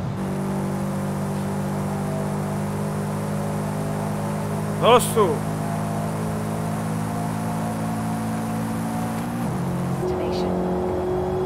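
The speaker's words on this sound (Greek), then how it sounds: "Ακούστε ήχο κι άλλο Subaru μπροστά." A Subaru engine in the Forza Horizon 5 racing game holds a steady, humming drone with a brief rev change near the end, while someone speaks Greek over it.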